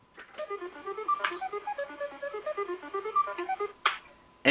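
Tic-Tac-Dough game board shuffling effect: a rapid run of bright electronic beeps hopping between pitches for about three seconds, framed by a couple of sharp clicks and whooshes, heard alone.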